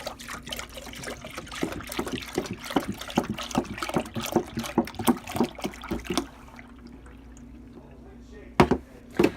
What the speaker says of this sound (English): I'm going to dump in my half gallon of milk